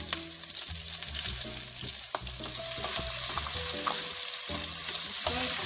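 Onion and tomatoes for efo riro frying in a pan, a loud, steady close sizzle with stirring scrapes and small pops throughout.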